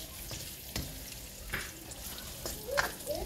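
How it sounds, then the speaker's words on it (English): Smoked sausage and onions sizzle and fry in a pot, a soft steady crackle with a few sharper pops and stirring clicks spaced through, fairly quiet and close. "So now that we got our sausage in this pot and it's cooking down pretty good"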